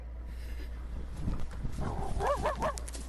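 An agitated dog barks and growls a few times at a distance, muffled under low background rumble, with a faint voice nearby.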